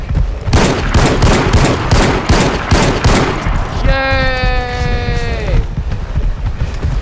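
Loud rapid bursts of automatic gunfire in Far Cry 4 rattle for several seconds, then a long bleating animal cry cuts in over more scattered shots.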